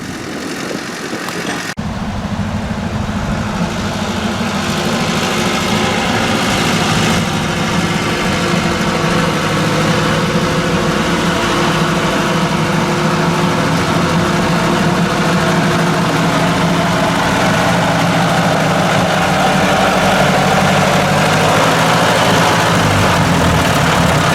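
A Ford 800 tractor engine idles steadily and loudly throughout, a low rumbling chug with constant vibration and no pauses.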